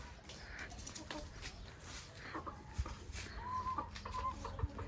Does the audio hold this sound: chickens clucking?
yes